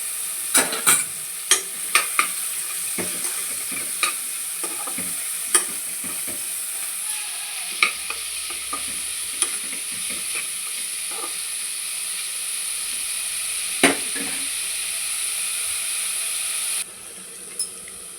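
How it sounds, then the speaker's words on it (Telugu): Capsicum fries in hot oil with a steady bright sizzle, close and continuous, broken by repeated clacks of a stirring spoon against the pan, and no talking. "ఆయిల్ బాగా మరిగిన తర్వాత క్యాప్సికమ్స్ వేసుకొని ఫ్రై చేసుకోవాలి."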